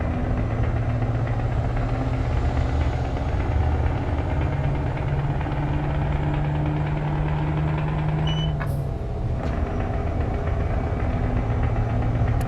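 Scania truck engine fitted to a modded W900 in American Truck Simulator, a steady deep rumbling drone throughout, with a short high electronic tone briefly cutting in near the end.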